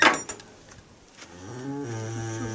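A cow or bull lets out a long, low moo, rising and holding steady, after a few faint rustles and clicks outdoors in a hayfield during haymaking.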